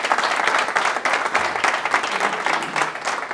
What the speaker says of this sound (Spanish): Un fuerte aplauso, Jesús.